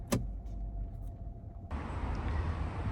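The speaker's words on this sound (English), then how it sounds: "It slides open and that will go all the way back, leaving that whole front section as a sunroof" The sunroof on a Volkswagen Tiguan slides open, a quiet electric motor whirring steadily inside the cabin after a brief click, its hum continuing smoothly to the end.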